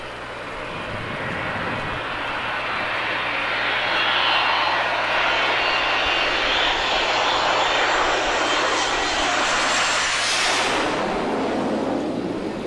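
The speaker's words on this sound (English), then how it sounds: "Synchronized takeoff." Fixed-wing aircraft make a synchronized takeoff at an air show. Engines roar loudly and steadily, building to a broad wash of noise that holds and then sweeps upward as the planes climb away.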